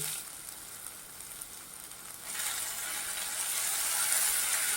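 Green chillies and cumin seeds sizzle in hot oil in a wok, a steady frying hiss that swells louder halfway through and holds, with no voices.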